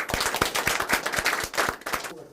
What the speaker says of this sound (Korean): 서로 격려하면서 박수 한번 쳐요